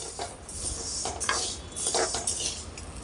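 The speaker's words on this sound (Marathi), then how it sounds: "तर आपण गहू सुद्धा लाल होतोपर्यंत असे भाजून घेणार आहोत।" Wheat grains are dry-roasted in a pan for a traditional thalipeeth flour mix, and a spoon scrapes and stirs them in soft, irregular rattling strokes at close range.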